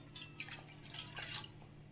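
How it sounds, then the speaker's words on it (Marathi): Half a glass of water poured into a pan to make sugar syrup for besan ladoo, a soft, steady trickling and splashing with faint drips, heard alone and fairly quiet throughout. "अर्धा ग्लास पाणी आपण यामध्ये टाकणार आहे"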